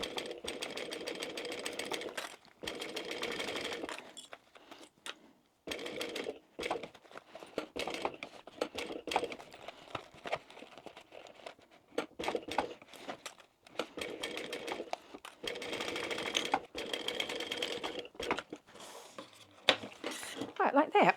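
A sewing machine stitching around a crossbody bag, running in repeated bursts of fast whirring broken by short pauses, with someone talking between and over the runs.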